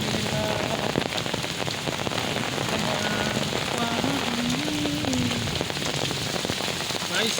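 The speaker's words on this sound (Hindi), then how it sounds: "कितना बारिश हो रहा है" Heavy monsoon rain pouring steadily over a village, a dense continuous hiss of drops hitting ground and water, loud and unbroken, with faint voices in the background.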